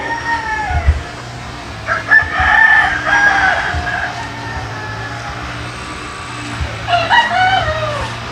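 A gamefowl broodstag rooster of Boston bloodline crossed with Golden Boy crows loudly nearby, with two long crows and lighter clucks, over a steady low hum of outdoor background noise.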